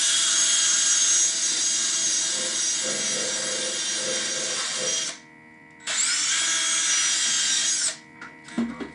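A power drill removing rust from a tiller whines loudly and steadily, cuts out briefly, then runs again in a second long burst before stopping, with a few light clunks at the end.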